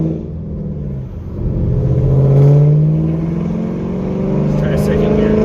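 A bolt-on Camaro SS V8 pulls hard at wide-open throttle, its loud, close engine note rising steadily in pitch, easing briefly, then climbing again as the revs build.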